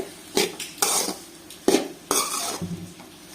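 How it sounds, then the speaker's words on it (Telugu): A spoon stirs amaranth leaf curry in a pan, giving several sharp scraping and clinking strokes with brief pauses between them, close and fairly loud, with no talking. "అంతా కలబెట్టుకుందామండి."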